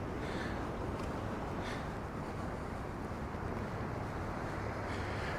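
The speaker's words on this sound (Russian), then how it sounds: "А море, посмотрите, какое агрессивное. Волны высокие" Rough, high sea waves break along the Anapa coast on a windless day, making a continuous dense roar and wash that holds steady throughout, with no voices.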